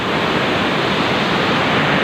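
Water pours over a small dam in Pangasinan, swollen after monsoon rains, as a steady, loud, broadband rush that stays constant and close, with no voices heard.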